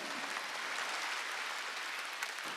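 Church congregation applauding during a Wednesday worship service, a steady dense wash of clapping held at an even level for the whole stretch with no pauses.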